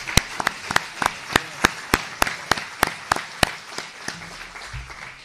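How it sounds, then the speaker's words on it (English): Sparse, evenly spaced hand claps from a small audience at a mayoral debate, greeting the timekeeper Bill Thomas; a dozen or so sharp, fairly close claps in a steady rhythm that thins out toward the end. "So a round of applause for Bill, please."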